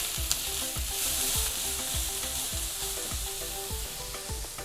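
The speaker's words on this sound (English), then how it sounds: "So first thing I'm going to do is the carrots. We're going to stir fry this until it's soft." Carrots stir-fried in a hot pan give a loud, continuous sizzle, with a spatula scraping in a regular rhythm of roughly two strokes per second, close up and without any talking.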